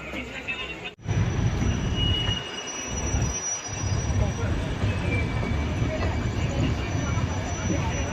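A crowded Jammu Tawi Express rumbles along the rails, a loud steady low roar of wheels and carriage heard from inside, with a brief drop near the start and voices talking over it.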